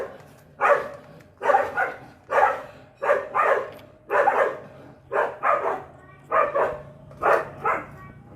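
A dog barks in a steady series of about ten loud, close barks, some doubled, with short pauses between them during a home motorcycle front shock repair session.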